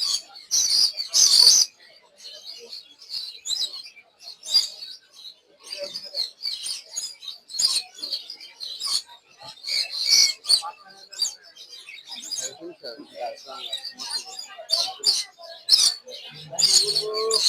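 Birds chirp and tweet in quick, repeated bursts around a crowded outdoor spot where pigeons gather, with loud rustling clatter near the start and a low cooing-like tone near the end.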